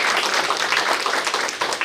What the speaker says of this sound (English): Everyone, please give Nu Tao a round of applause.